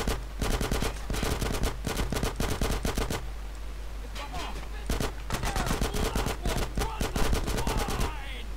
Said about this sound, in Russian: Он еще и стрелять умеет.